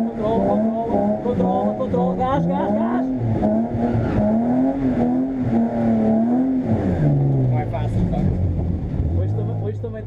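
A car at a corporate driving event revs and accelerates hard, the engine note rising and falling repeatedly while an instructor talks over it.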